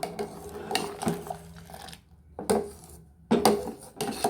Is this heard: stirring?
yes